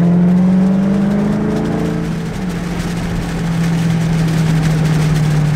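A lifted truck on a 12-inch lift accelerates hard, its engine a loud, steady low drone with a rising whir that holds for several seconds, heard from inside the cab with no talking.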